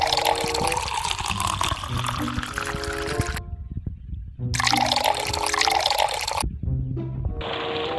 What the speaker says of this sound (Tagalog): punuin po natin tong